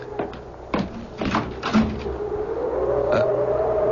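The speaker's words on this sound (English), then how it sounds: "What's that? Someone's at the door." A radio-drama door sound effect for a caller arriving at night: a few dull knocks and thumps in quick succession, then a steady, slowly wavering tone that continues to the end.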